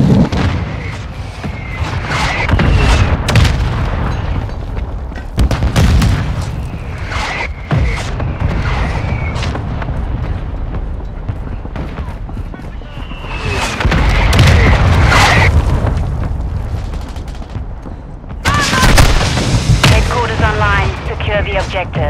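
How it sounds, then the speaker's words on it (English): A friendly mortar strike in a video game brings repeated loud booming explosions spread over about twenty seconds, with rumbling tails and scattered gunfire between the blasts. "Friendly mortar strike inbound."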